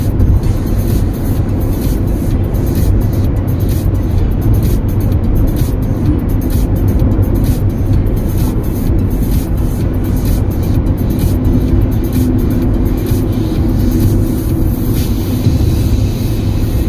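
A car drives on a California road, heard from inside as a steady, loud rumble of engine and road noise that runs unbroken for the whole stretch with no talking.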